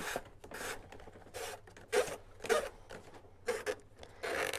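Seagrass cord drawn snugly through the rim of a woven market basket, making about eight short, rasping, zipper-like pulls in a steady rhythm, close and clear with no speech.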